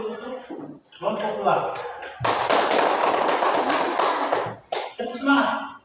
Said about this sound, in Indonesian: kita tepuk aplaus dulu untuk kelompok